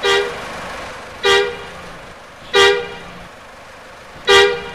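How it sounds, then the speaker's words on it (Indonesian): A Mitsubishi Canter truck horn in Bus Simulator Indonesia honks four times in short, loud blasts spaced evenly apart, each with a quick fade. "Oke, jadi kurang lebih seperti itu ya untuk klakson setir."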